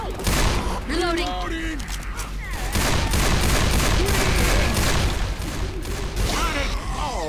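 Rapid gunfire from Left 4 Dead 2, loud sustained bursts and volleys with booms, mixed with shouting players talking over the shooting throughout.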